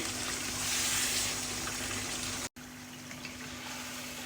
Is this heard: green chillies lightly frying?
yes